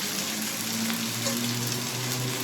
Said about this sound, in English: Gonna add some pasta water.